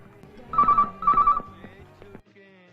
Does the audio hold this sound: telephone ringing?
yes